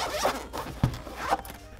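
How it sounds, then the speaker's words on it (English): Zipper on a hard shell carrying case for a Toumei C900 portable projector, pulled in a few smooth, close raspy strokes with brief pauses between them, heard alone. "It has a nice zipper that glides smoothly."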